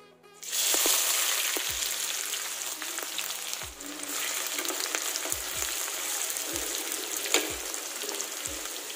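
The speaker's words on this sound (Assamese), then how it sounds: "তেল গৰম হৈ আছে আৰু জিৰা অকণমান গোটা জিৰা" Whole cumin seeds hit hot oil and burst into a steady, close sizzle within the first second, with occasional metal scrapes and taps of a spoon in the pan as frying continues throughout.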